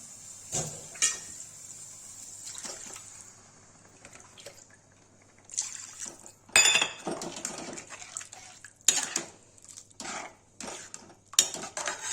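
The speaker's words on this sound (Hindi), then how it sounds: "गाइस देखिए प्यूरी हो गई, सब पानी डाल देंगे।" Water poured into tomato puree in a cooking pot while making egg curry: intermittent close splashes and pours mixed with metallic clinks of pot and utensils, with quiet gaps between bursts.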